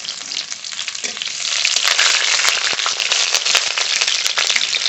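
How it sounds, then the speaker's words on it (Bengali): Onion fries in hot oil for a small hilsa fish curry with mustard paste, a loud, dense, close sizzle that swells after the first second and holds steady, with faint crackles. "ছোটো সাইজের জন্য একটু পেঁয়াজ সামান্য পেঁয়াজ গরম দেবো"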